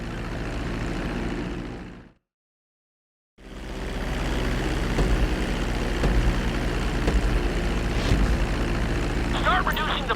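A plane engine drones loudly in Grand Theft Auto V during a flight approach to a runway, a steady roar that cuts out briefly to silence and then resumes.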